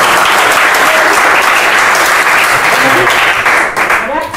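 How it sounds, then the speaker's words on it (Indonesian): Sustained applause from a group in a university teacher-training accounting class session, loud and dense throughout and easing off slightly in the last moments. "tepuk tangan untuk kalian semua"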